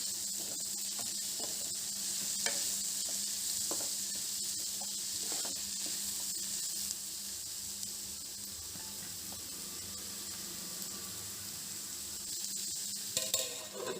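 Salted onions sizzle steadily in a covered pan, a continuous bright frying hiss with occasional soft pops and faint clinks, holding fairly even throughout.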